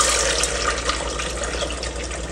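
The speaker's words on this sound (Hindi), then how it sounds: "ये जो बैटर हमने बनाया है ये डाल देंगे।" Gram-flour batter poured into fried karhi masala in a pan, a steady close liquid pouring and sloshing sound with no talk.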